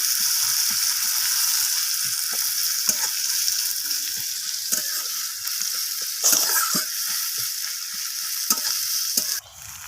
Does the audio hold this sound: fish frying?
yes